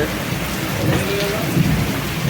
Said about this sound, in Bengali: থেকে থেকে আবার বজ্রপাত হচ্ছে, বিজলি চমকাচ্ছে